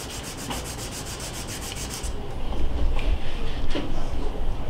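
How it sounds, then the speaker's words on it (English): A blade is stroked back and forth on coarse 100 grit abrasive to form a bevel, giving a steady rasping rub that gets louder and heavier partway through, with no talking. "On my course 100 grit, about a dozen or so strokes back and forth has gotten me at a pretty good bevel."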